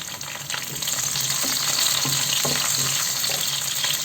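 Steady, fairly loud sizzling of chopped garlic and chili frying in hot oil for a hilsa fish dish, a continuous crackle with faint stirring throughout and no talking.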